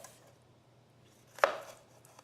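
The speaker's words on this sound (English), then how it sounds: "Chop it up." A single sharp chop of food on a cutting board during Sunday meal prep, one loud knife strike rising out of a quiet room background.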